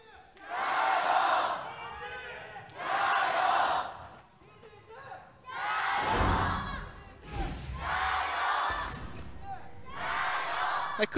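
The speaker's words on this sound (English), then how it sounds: "You can hear the crowd still trying to chant." Esports arena crowd at an LPL League of Legends match between RNG and EDG, voices swelling in repeated loud chanting bursts of roughly two seconds with brief dips between, broad roaring and shouting throughout.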